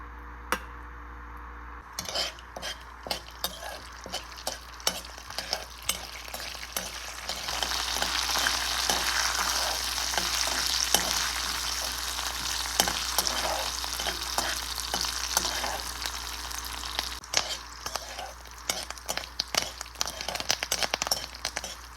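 Whole spices tempering in hot oil for curd idli, a steady crackling sizzle with scattered pops and a stirring spoon scraping the pan, close and continuous throughout.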